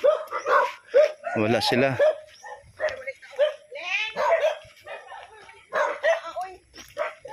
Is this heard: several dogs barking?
yes